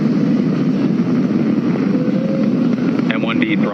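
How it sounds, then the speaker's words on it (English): SpaceX Falcon 9 engines carrying a crewed Dragon capsule through launch ascent, a loud, steady broadband roar with a voice talking over it. "Flying crew on board Dragon and Falcon 9, and look at them go."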